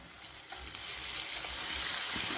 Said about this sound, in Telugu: ఈ అల్లం వెల్లుల్లి పేస్ట్ కొంచెం వేగనిద్దాం.